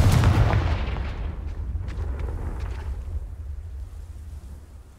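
Spell blasts from the Hogwarts Legacy video game: a loud, deep booming explosion at the start that rolls into a sustained rumbling wash, with a few faint sharp crackles on top as it slowly fades.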